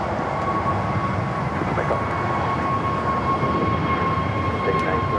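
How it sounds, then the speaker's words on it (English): A Frontier Airbus A320neo in white Polar Bear livery takes off from LAX, a steady, loud jet roar with a faint whine sustained across the whole stretch. "Frontier Blanco, the Polar Bear livery, heading to Phoenix, Arizona in an A320 Neo, now taking off."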